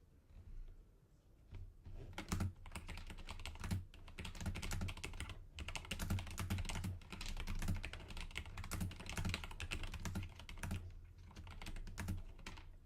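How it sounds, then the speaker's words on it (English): Steady, rapid typing on a computer keyboard, a dense run of close clicky keystrokes with brief pauses, no voices. "listening to the lovely sounds of this keyboard"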